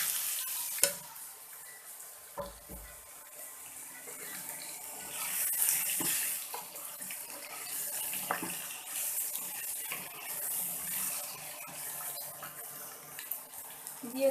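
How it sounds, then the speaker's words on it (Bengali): Raw green mangoes tumble into a hot pan for a sweet-sour pickle and are stirred, giving a soft sizzle with scraping and clattering stir strokes, steady and close, with no talking. "এখন আমি আমগুলো দিয়ে দিব।"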